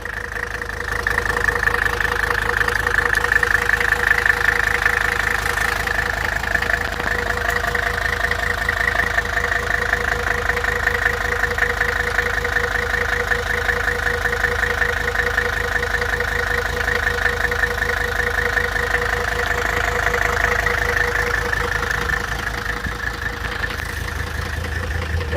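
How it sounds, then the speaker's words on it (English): A Mercedes-Benz W123 300TD five-cylinder diesel idles with a misfire, a steady close clattering rumble with an uneven, rough pulse running throughout. "I know a 5-cylinder sounds a little rough, but I don't know. I think that's a miss at idle."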